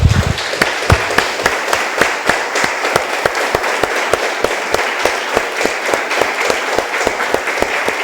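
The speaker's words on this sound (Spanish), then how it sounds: "Damos un aplauso, hermanos, al Señor." A church congregation applauds, loud and sustained clapping filling the room with rhythmic sharp claps standing out over the dense crowd sound from start to finish.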